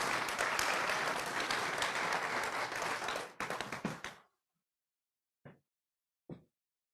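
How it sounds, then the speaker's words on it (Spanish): Conference audience at a talk on mining exploration investment in Mexico giving a strong round of applause to the speaker, a loud sustained clatter of hands that cuts off abruptly, followed by quiet and two brief faint knocks. "Vamos a darle un fuerte aplauso al güero"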